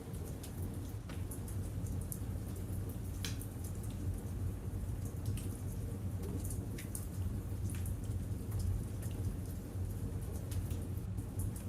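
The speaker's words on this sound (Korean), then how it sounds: "오후가 깊어지자 비가 더 거세집니다." Heavy afternoon rain pouring down, a steady broadband hiss with scattered drip taps, constant and unbroken throughout, with no voices.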